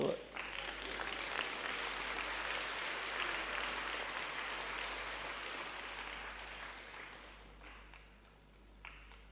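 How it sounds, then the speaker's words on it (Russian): Audience applause fills a church hall during a sermon, a steady, dense wash of clapping from a large crowd that holds evenly, then fades and thins toward the end. "Когда есть, да, можно хлопать, давай."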